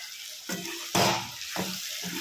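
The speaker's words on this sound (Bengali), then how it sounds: "এবার আমার কাজ হচ্ছে এটাকে খুব সুন্দর করে কড়া করে ভেজে নেওয়া" Bitter gourd and eggplant fry in hot oil, with a steady sizzle broken by a few bursts of louder crackling as the pieces are stirred, heard close with no voices.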